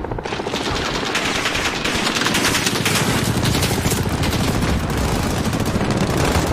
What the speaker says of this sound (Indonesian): ada senjata otomatis sepertinya di atas gedung itu yang kita harus masuk